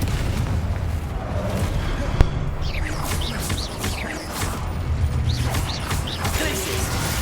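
A Confringo spell blast in Hogwarts Legacy: a steady roar of spell and combat noise with whooshing, swooping bursts and a sharp crack, dense and continuous.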